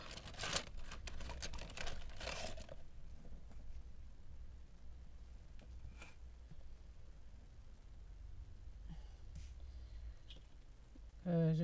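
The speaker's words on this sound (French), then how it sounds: "Ensuite, je vais marquer mes plis." Paper being folded and creased by hand to make a gift bag, with a burst of crinkling and rustling at the start, then sparse soft taps and rubs against quiet background.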